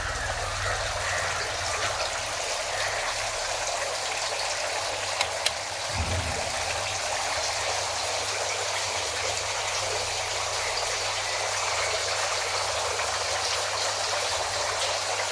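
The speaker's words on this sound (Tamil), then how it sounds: "தண்ணி எப்போவுமே அந்த வாட்டர் ஃபால்ஸ் வர மாதிரி விழுந்துகிட்டே இருக்கும்" Steady, soft splashing of water falling into a pond, a continuous waterfall-like rush with no voices.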